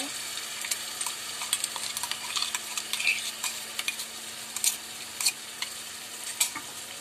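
Ginger, garlic and chilli paste fries in a pan for Malvani chicken rassa, a soft, low sizzle broken by frequent small scraping and stirring clicks close by.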